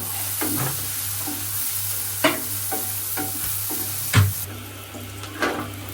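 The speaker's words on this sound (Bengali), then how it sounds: "পেঁয়াজটাকে কিন্তু তেলের মধ্যে ভাজা ভাজা করে নিচ্ছে" Onions fry in oil for a chicken curry, giving a constant close sizzle while a spoon stirs and scrapes the pan in periodic clatters.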